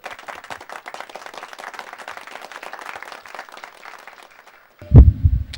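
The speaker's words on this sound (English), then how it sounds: "could we please welcome him with a huge round of applause" At a convention launch, an audience welcomes the curator with light, scattered clapping that thins and fades away, followed by a sudden low thump and rumble at the end.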